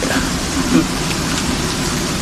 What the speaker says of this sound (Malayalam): അത്രയും നല്ല കാറ്റും മഴയാണ്